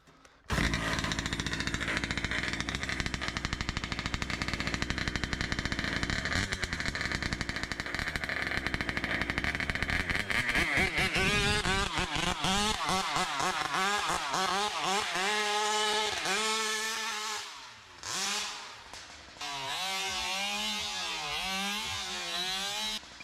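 A Taylor 50cc Vekta engine, already warm, is pulled over and catches, then runs steadily and loudly with a buzzing two-stroke drone that rises and falls as the throttle changes, dipping briefly near the end.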